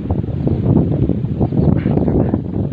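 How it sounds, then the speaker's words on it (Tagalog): Strong wind buffets the microphone in continuous low roaring gusts at a seaside salt-making spot, loud and close with no clear speech. "malakas talaga ang hangin dito"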